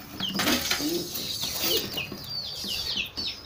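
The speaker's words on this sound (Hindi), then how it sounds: "तो ये देखें दोस्तों बाहर आ गए कबूतर" Pigeons flutter and call in a busy outdoor setting as they are let out, with soft cooing and flapping wings close by.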